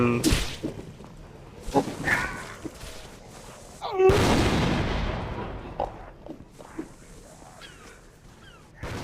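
In the zombie shooter Guts & Blackpowder, sharp gunshots crack out one after another, with a big blast near the middle followed by a rolling decay, while someone talks in between the shots.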